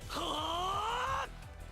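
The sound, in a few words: anime character yelling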